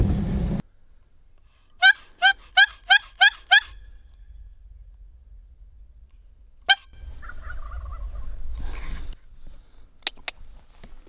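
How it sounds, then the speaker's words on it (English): Wild turkeys gobble in the woods during spring scouting, a quick burst of five rattling gobbles, then a single distant gobble and fainter calls later over low rumbling background noise. "Just for the fun of hearing them gobble."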